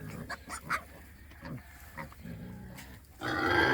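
Pigs on a farm give several short, close grunts at feeding time, spaced irregularly, followed by a rising noisy rush near the end.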